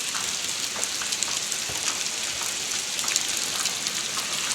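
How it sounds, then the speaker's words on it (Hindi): Heavy rain pours steadily outside, a dense continuous hiss with scattered drop impacts, loud and unbroken, with no voices. "बहुत तेज़ बारिश होने लगी है बाहर"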